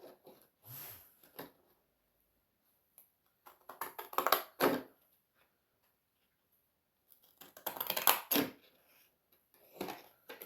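Pinking shears from Lidl cutting through paper, two bursts of crisp crunchy snips in rhythmic runs separated by quiet pauses, close and fairly faint.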